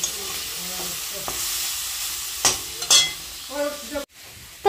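Leafy greens fry and are stirred in a pan, giving a steady soft sizzle with a few scraping clatters of the utensil near the end.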